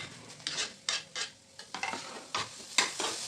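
Cauliflower mixture stirred and sautéed in a pan for paratha filling, with repeated scraping strokes and a soft sizzle, close and moderately loud, no talking.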